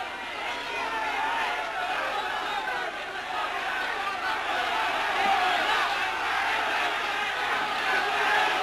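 Boxing arena crowd at a Charlie Nash fight roars and shouts continuously, a dense wall of many voices yelling at close range with no breaks across the whole stretch.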